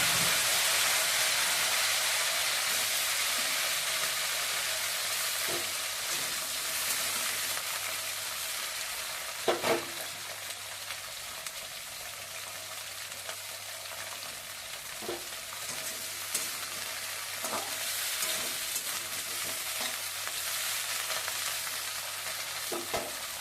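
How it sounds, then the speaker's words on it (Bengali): Cut cauliflower florets frying in hot oil give a dense, continuous sizzle and hiss throughout, with scattered soft scraping and knocking of a spatula stirring in the pan. "ফুলকপিগুলো কেটে রেখেছিলাম ভালো করে ধুয়ে নিয়েছি এবার ভেজে নিচ্ছি"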